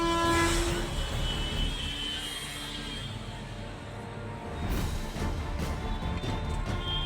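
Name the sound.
train approaching railway crossing, sounding its horn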